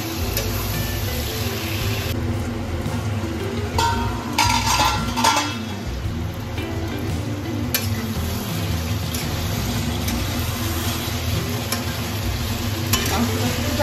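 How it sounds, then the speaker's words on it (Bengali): Chicken frying with green chilli paste and spices in a pan for chicken kosha, a loud steady sizzle under repeated stirring and scraping of a spatula on the metal, with a few clinks. "মশলাগুলো দিয়ে মাংসটা ভালো করে কষিয়ে নেব।"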